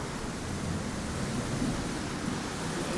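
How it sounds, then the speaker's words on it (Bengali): A thunderstorm seen from a balcony, with heavy rain and strong wind making a dense, steady roar, loud and constant, without distinct separate thunder claps and with no speech. "প্রচণ্ড জোরে জোরে বাজ পড়ছে আমি দাঁড়াতে পারছি না এত হাওয়া দিচ্ছে"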